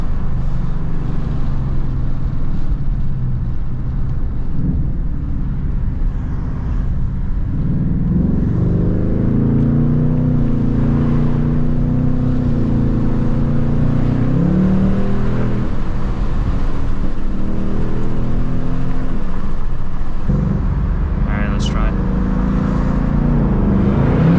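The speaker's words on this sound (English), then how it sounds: "It sounds so good. Track exhaust with the active exhaust." A 2024 Ford Mustang GT's V8 with active track exhaust roars steadily as the car accelerates through the gears, deep and loud from inside the cabin, pitch rising and falling with each shift.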